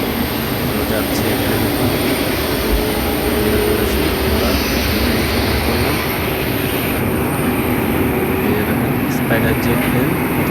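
Steady, loud broadband roar of a jet airliner cabin in flight on a Bangalore to Kolkata route, constant and unbroken throughout with no distinct events.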